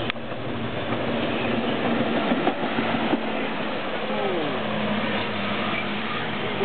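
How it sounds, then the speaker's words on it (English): A railway ballast regulator, a maintenance-of-way machine at North White Plains on the MNRR, rumbles past with a steady heavy mechanical roar and faint squeals, while a person talks over it. "Ballast regulator."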